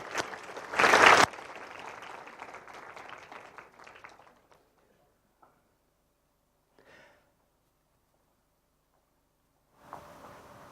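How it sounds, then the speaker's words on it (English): An audience at Harmony House applauds as a panel is welcomed onto the stage. After a loud opening burst, the clapping thins and fades over about four seconds into near silence, broken by a few faint sounds and a short noise at the end. "So a warm round of applause."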